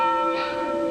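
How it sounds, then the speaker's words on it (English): Church bell at Haw Creek Church in Hope rings a single clear, sustained tone with ringing overtones, heard alone and up close. "the bell of the Haw Creek Church in Hope now rings"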